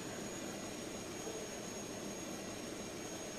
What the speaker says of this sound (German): Schnell das Flugzeug hochziehen, ey.